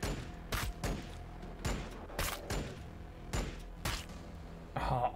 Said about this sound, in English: We are taking fire. Under fire.